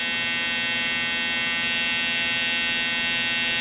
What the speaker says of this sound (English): Using my Babyliss Gold FX shaver, we're probably gonna shave about half of this area right here